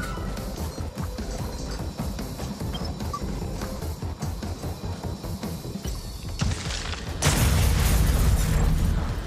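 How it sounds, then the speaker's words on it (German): An explosion in the video game The Surge 2, a sudden loud broadband burst about seven seconds in, following a steady clattering mechanical game ambience, then holding a dense roar to the end. "Irgendwas explodiert."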